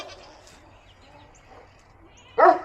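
A farm dog gives a single loud bark close by near the end, during an eclipse, after a stretch of quiet outdoor background.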